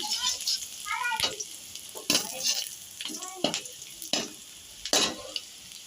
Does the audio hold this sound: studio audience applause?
no